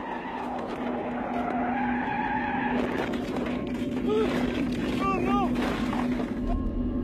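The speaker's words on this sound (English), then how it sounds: "He quickly loses control, and the car begins to roll to the side of the road into the valley." A car leaving a tunnel onto a sharp turn skids out of control with a loud, sustained tire squeal and road roar before rolling off the road, a few higher screeching bursts standing out near the end.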